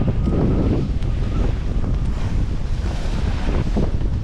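Strong wind buffets a steel expedition sailboat under sail with the genoa out, moving at about six knots in a cold Newfoundland fjord, a steady loud roar of gusts and rushing water close on the microphone, no talk.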